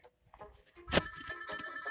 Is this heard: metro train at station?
no